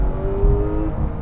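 A Porsche 991 911 GT3 engine held at high revs during a launch, a close, steady mechanical drone with a sustained tone, brief and without talk.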